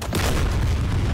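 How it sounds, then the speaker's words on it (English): Loud, sustained rumbling boom from an explosion in the DCS World combat flight simulator during an F-16 Viper versus MiG-29s dogfight, a dense low roar filling the whole moment with no talk over it. "Booms at the beginning of round 5."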